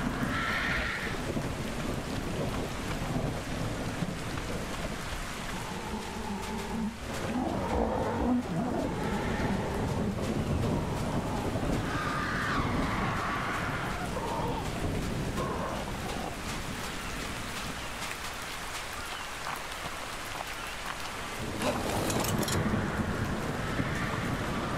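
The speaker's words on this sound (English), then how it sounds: "And now it starts raining." Rain and rumbling thunder fill the Ark Survival Ascended game world, a dense continuous wash of rainfall with low rolling booms, while a horse whinnies and birds call intermittently through the storm.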